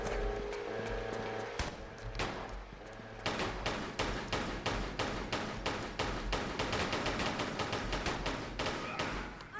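Gunfire in Tomb Raider I-III Remastered as guards are shot, a rapid run of sharp repeated shots and thuds that starts after a quieter opening and keeps up a steady rhythm to the end.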